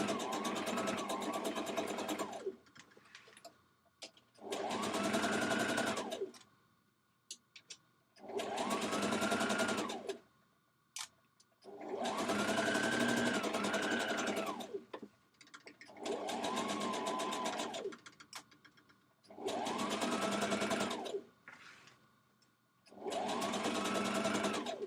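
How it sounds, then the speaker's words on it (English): A sewing machine stitches a dress pocket into place in seven even runs of a couple of seconds each, separated by brief stops, close-up and steady with no one speaking. "I'm stitching my pocket now in place."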